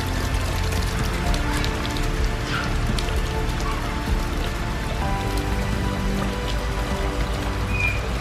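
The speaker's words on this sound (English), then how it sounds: "Looks like a storm is moving in." Steady, dense rain from an approaching storm pattering on surfaces outdoors near a backyard wading pond with fountains, a continuous even wash of droplets with no pauses.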